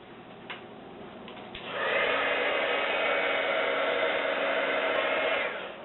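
Heat tool switched on to melt glitter embossing powder on cardstock, a close steady blowing whir that starts after a few light taps and runs evenly before cutting off.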